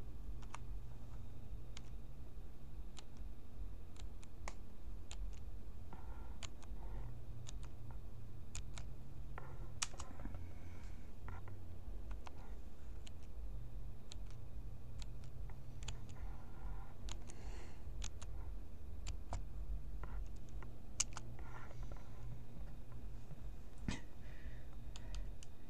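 Keys clack on a computer keyboard as a password is typed into a NetBSD 6.1.2 desktop, a soft, irregular run of clicks and taps over a quiet background hum, no voices.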